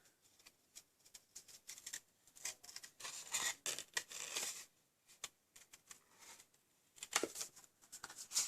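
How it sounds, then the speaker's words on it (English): Scissors snip paper during fussy cutting for a heat-embossed floral card, with quiet irregular clusters of crisp cuts, paper rustling and brief pauses between bursts. "I'm terrible at fussy cutting."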